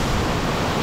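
A waterfall in Georgia gives a loud, continuous roar of rushing water, steady and close, with no voices.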